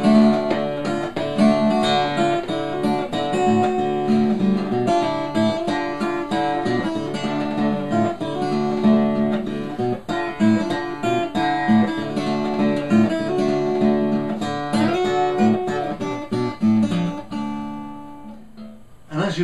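A blues melody played on guitar with a single finger and no grace notes runs steadily as a string of plucked notes over ringing harmonics, close and fairly loud throughout.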